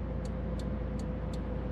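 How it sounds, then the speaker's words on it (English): Inside a turbocharged FRS driving at night in heavy traffic, a steady low engine and road drone carries on while a turn signal ticks evenly about four times, with no talk. "but traffic is pretty bad right here."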